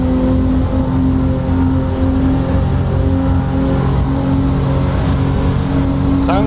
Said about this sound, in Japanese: 結構いい音するんですねこの GTR。